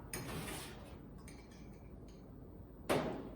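A bar spoon stirring sugar in a cocktail glass for a daiquiri, with light metallic clinks and scrapes against the glass, quiet and close, and a brighter clink near the end.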